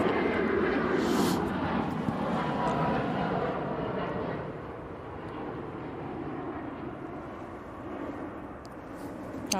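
An airplane at Manchester Airport roars past, a broad rumbling jet noise that is loudest at first, then eases slightly and stays steady throughout, with no talk over it.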